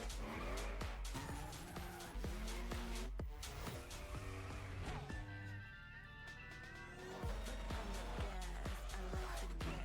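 A Lamborghini in a racing video game drives with engine whine and repeated sharp tire squeals, gear-change tones rising and falling, with a brief quieter stretch midway before the engine surges again.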